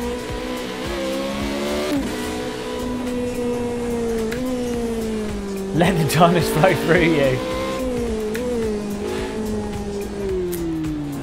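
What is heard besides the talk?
Ferrari engine and gear shifting in video game Project Cars 2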